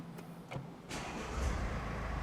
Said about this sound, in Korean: 시동 먼저 걸어보도록 할게요.